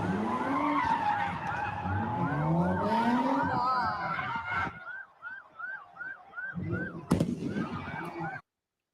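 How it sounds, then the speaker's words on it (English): At a street takeover in Philadelphia, cars spin donuts with long screeching tyre skids while sirens wail and fireworks pop sharply nearby. The noise is loud and chaotic, with voices of a crowd mixed in. "Cars did donuts while hundreds of people took to the streets, lighting fires, throwing fireworks, jumping on cars."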